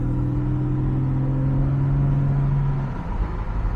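A modified Jaguar XJS V12 pulls steadily at part throttle, its engine drone holding a low tone before easing off as it shifts into third gear; the engine sound is close and continuous, with no voices.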